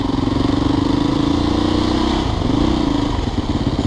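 A carbureted motorcycle engine runs close by, revving up and holding a steady buzzing drone that dips and climbs again, loud and continuous with no talk.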